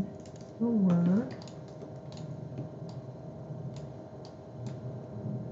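Faint, sparse keystrokes tap on a computer keyboard while a word is entered into a design program, light irregular clicks spread over several seconds, with a brief spoken voice near the start.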